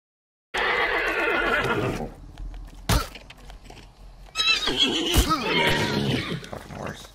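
Horse neighing in the video game Hunt: Showdown, a loud whinny that opens the clip, followed by thuds and a second, rougher whinny with clopping, close and prominent.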